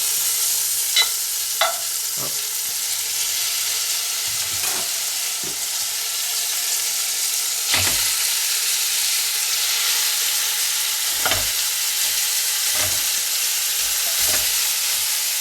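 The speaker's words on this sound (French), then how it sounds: "on va faire revenir la viande dans notre beurre" Pieces of veal for blanquette brown in butter, a constant loud frying hiss with occasional spoon stirs and clinks against the pan, heard up close without any talking.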